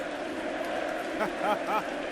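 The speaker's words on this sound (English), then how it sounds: "That's what the crowd think." Boxing arena crowd reacting to Carl Froch during his fight with Yusaf Mack: a steady wash of crowd noise with rising chanting voices, heard alone with no commentary over it.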